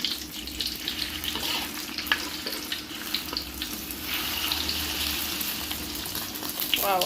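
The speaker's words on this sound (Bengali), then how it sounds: "ডিমটাকে ভালো করে দুপাশ ভালোভাবে ভেজে নেব" Eggs fry in hot oil with a steady crackling sizzle, broken by occasional spatters and small utensil taps. There is a low hum beneath it and no speech.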